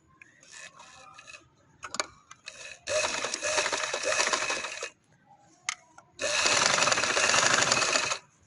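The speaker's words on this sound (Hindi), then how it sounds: "अब इसको बाहर की तरफ सिलाई लगाते हैं।" A sewing machine stitches a short frock dress in two loud sustained runs, separated and preceded by quiet clicks and handling noises.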